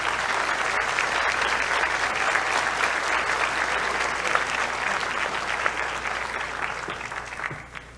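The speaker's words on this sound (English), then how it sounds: "please join me in a round of applause as we congratulate tonight's new inductees" Sustained, even applause from an audience at a high school National Honor Society induction ceremony, many hands clapping together for the whole stretch without pause.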